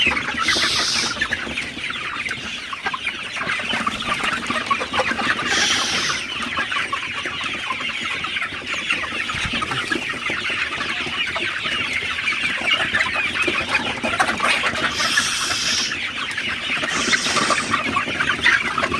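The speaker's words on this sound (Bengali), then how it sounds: "দেখতে পাচ্ছেন মুরগিগুলা পানি খাইতেছি" Sonali super hybrid chickens cluck steadily in a poultry shed during a morning feeding with water, with a dense, continuous chorus of overlapping clucks and occasional louder calls, close and fairly loud, and no talking.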